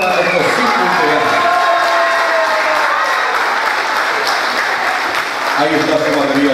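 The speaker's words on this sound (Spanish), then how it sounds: "Aplausos para estos cinco integrantes." An audience applauds at a regional band's live presentation, with loud sustained clapping and a few cheers throughout while a voice speaks over it through the PA.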